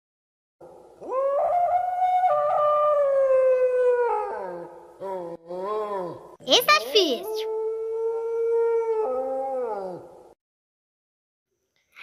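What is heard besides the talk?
wolf howling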